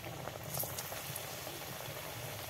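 Cauliflower-stuffed pitha fry in hot white oil in a wok, a soft, even bubbling sizzle that stays quiet and steady throughout with no talking.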